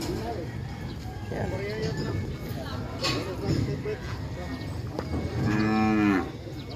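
Water buffalo low at a livestock market, with one long, clear bellow near the end rising over voices chattering in the background.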